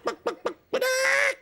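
A human voice imitates a hen in a French satirical puppet show: three short, sharp clucks, then one long, squawking cackle, loud and close with no other sound.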